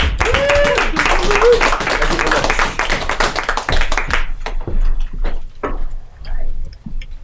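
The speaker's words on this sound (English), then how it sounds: "Give a round of applause for Harry Breitner." Applause from a live comedy show audience welcoming the next comedian, dense clapping that thins into scattered, sparse claps and fades out.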